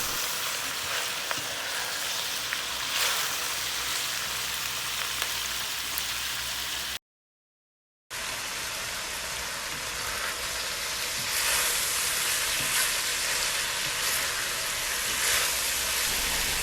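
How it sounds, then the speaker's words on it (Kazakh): Vegetables, including Chinese cabbage, fry with chicken in a pan, giving a dense, even sizzle with stirring that continues throughout. There is one short silent gap in the middle and no talking. "Көкөністерді жақсылап қуырып алғаннан кейін соя тұздығын қоссаңыздар болады"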